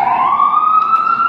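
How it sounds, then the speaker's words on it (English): A loud, close siren wails in New York City near Central Park, its pitch rising steadily in one continuous tone. "Oh yeah, you're gonna hear a lot of those sirens."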